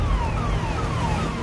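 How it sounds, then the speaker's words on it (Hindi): An ambulance siren wails with steady falling sweeps while the vehicle is stuck in a long traffic jam on a waterlogged Delhi road, loud and close over a low rumble of idling vehicles. "एम्बुलेंस यहाँ पर फंसी हुई थी"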